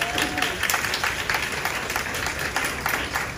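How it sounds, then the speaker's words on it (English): Parents in the audience at a third grade school musical applaud a parent who built the sets, steady crowd clapping at moderate distance with faint voices underneath. "So let's give her a round of applause"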